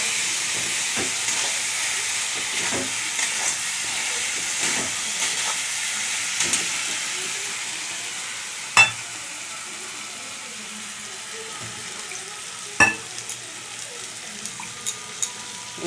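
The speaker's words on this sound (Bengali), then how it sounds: "লঙ্কা গুঁড়ো 1/2 চামচ, হলুদ গুঁড়ো 1/2 চামচ, আর কাশ্মীরি মির্চি 1/2 চামচ দিয়ে ভালো করে কষাবো" Chilli powder, turmeric and Kashmiri chilli powder sautéing in a pan give a steady, fairly loud hiss and sizzle, broken by a few faint stirring scrapes and two sharper clinks late on; no voices.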